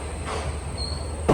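The Amritha Express pulls out of Palakkad Junction with a low rumble of rolling wheels and a thin metallic squeal, ending with a sudden louder burst of clatter.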